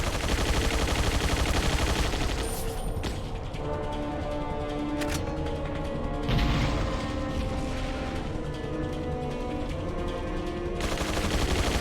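Rapid bursts of gunfire in the video game Resident Evil 4 rattle over a constant loud background, with sharp isolated shots and booms punctuating dense firing over several seconds.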